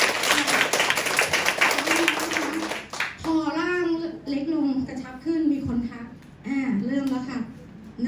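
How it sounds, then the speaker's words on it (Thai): An audience bursts into dense, lively applause for about three seconds, which then stops abruptly as a person begins talking at length. "ปรบมือให้พัคอฟฟี่น"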